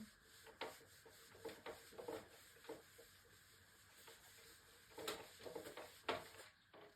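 Dry rubbing and scraping as a board is wiped clear during a geometry lesson, irregular bursts of brushing strokes that rise and fall, faint and close, with no talk.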